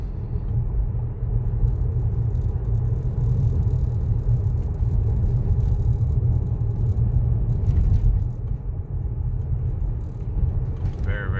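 A Tesla on Autopilot rolling along narrow back roads, heard from inside the cabin as a steady low road rumble and faint whir that hold evenly throughout.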